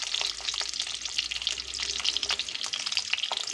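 Eggs frying in a pan with salt and turmeric for a dhaba-style egg masala curry, a steady close crackling sizzle with small scattered pops throughout, no voices.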